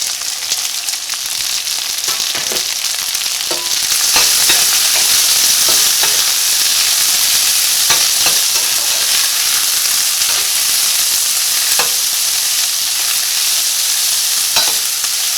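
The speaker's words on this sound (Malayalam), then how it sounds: "ഈ സവോളയ്ക്ക് മുരിഞ്ഞ് നല്ലൊരു ഗോൾഡൻ കളറാവണം" Onions sizzle and crackle steadily in hot coconut oil, a loud continuous frying hiss with occasional sharp clicks from stirring.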